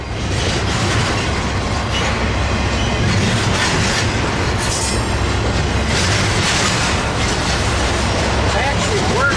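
A BNSF freight train passes at Commerce heading into Hobart, a loud, steady roar of wheels and rail clatter that fills the whole stretch without letup, close by.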